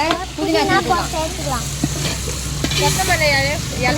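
Tomatoes for home-made chicken biryani fry in a pan with a loud, continuous close sizzle and stirring, while someone talks over it.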